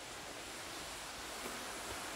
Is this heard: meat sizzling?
no